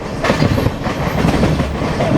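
A Sealdah local train passes close at a station, loud and continuous, with rumbling wheels, rhythmic clickety-clack over rail joints and a brief faint squeal.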